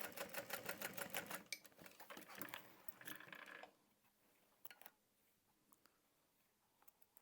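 A sewing machine stitches thick tote bag layers in a fast, close rhythmic burst of clacking needle strokes, then stops for a pivot, followed by faint fabric handling and scattered clicks.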